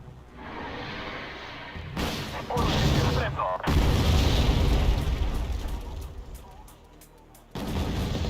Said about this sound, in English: I'll probably help them with some mortars, though.